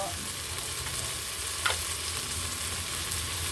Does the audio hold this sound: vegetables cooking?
yes